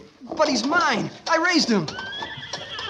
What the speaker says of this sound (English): Horses in here, 3 of them.